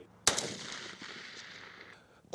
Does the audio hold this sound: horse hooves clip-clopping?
no